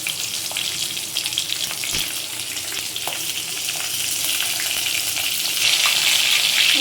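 Black and white cumin, along with bay leaf and green chilli, sizzling in hot oil in a pan: a steady crackling fry that continues throughout and grows louder toward the end.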